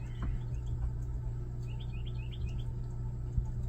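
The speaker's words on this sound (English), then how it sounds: "So I was listening to the bird." A bird chirps outdoors, a quick run of faint, thin tweets in the middle of the stretch over a low steady background hum, with no talking.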